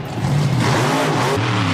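Supercharged monster truck engine revving hard, a loud, rough, rising roar that holds for under two seconds with no voices over it.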